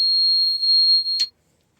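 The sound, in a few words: alarm beeping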